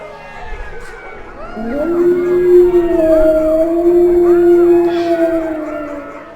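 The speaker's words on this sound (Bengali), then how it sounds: "দূরের কোথাও ফাঁকা জমি থেকে শেয়াল ও কুকুরের ডাক ভেসে এলো।" Cartoon jackals and dogs howl in the distance over empty open land on a deserted night road, long wavering overlapping howls rising and holding under a low background hum.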